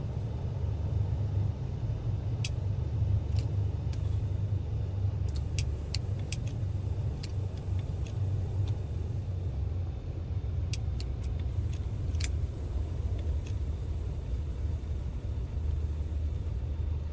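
A Cessna 310R engine simulated in Microsoft Flight Simulator drones as a steady low rumble throughout, with occasional faint clicks over the top and no talking.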